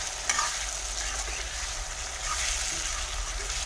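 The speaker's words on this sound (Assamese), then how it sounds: "মিট মছলাখিনি দিয়াৰ পিছত এতিয়া ভালদৰে লৰাই দিম" Pork being stirred with meat masala and red chilli powder in a hot pan, a close, steady sizzle with a few spoon clinks and scrapes over a low hum, brief and without talk.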